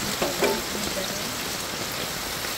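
Ingredients for igado, a Filipino Ilocano dish, fry in a pan with a steady, crackling sizzle like rain, fairly close and unbroken for a few seconds, with no talk.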